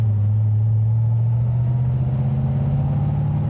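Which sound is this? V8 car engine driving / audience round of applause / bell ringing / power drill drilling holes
V8 car engine driving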